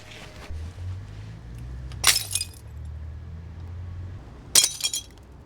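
Glass shards on a Frankfurt street clink and break in two sharp bursts, each a bright crunching shatter with short tinkling tails, over a low city rumble.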